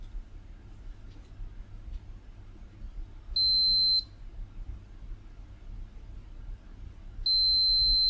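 A multimeter continuity tester on a damaged car key fob circuit board gives two clear, steady electronic beeps, each under a second long and a few seconds apart, over a faint low background hum.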